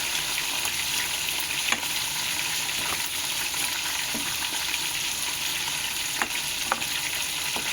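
Ingredients for Bicol express sizzle loudly and steadily in a hot pan, with occasional scrapes and clinks of stirring.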